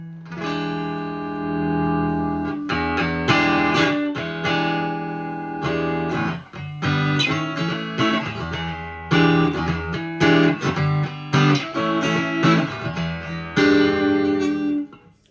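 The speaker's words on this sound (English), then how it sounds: "So on the neck pickup," Stratocaster-style electric guitar on the neck pickup through a Marshall combo amp, played alone in a shop as loud, sustained chords and picked notes with brief pauses, close and dry without reverb.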